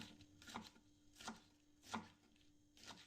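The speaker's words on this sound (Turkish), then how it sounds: "Onları da şu şekilde fazla kalın olmadan fazla da ince olmadan doğrayacağım." A knife chops peppers on a board in four evenly spaced, soft thuds, close by and fairly quiet, with no voices.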